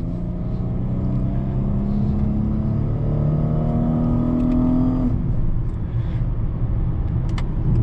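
A 2014 Dodge Challenger with a 3.6 V6 accelerates on open road, its engine drone climbing steadily in pitch for about five seconds, then dropping back to a lower rumble. It sounds close and continuous, with no talking.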